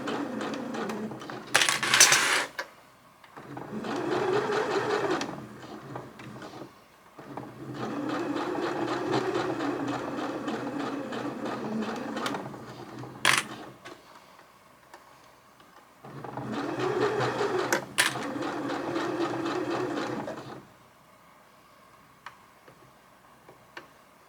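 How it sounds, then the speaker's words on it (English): A domestic sewing machine stitches a hoodie seam with back tacking, running in three loud sustained bursts of rapid whirring separated by short pauses, close up with no talk. "I'm going to just do a couple of stitches of back tacking"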